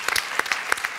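Audience at a televised dance gala applauding a couple's performance, a brief burst of dense, close clapping with sharp individual claps standing out.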